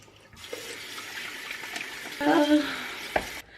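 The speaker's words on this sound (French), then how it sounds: "c'est pas bien de laisser couler l'eau." A tap runs steadily into a sink, a soft continuous splashing hiss that swells louder for a moment as the flow is disturbed, then cuts off abruptly near the end.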